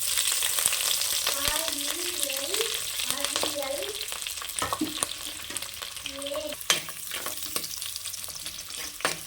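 Fenugreek seeds, curry leaves and onion fry in groundnut oil for a village-style fish curry, with a continuous close sizzle, sharp stirring knocks and some faint wavering tones in the background.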